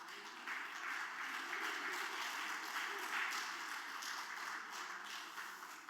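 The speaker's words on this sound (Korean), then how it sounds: "환영하고 축복하는 박수하도록 하겠습니다" A church congregation at a Sunday worship service applauds to welcome guests, a soft, even wash of many hands clapping that holds steady and fades slightly at the end.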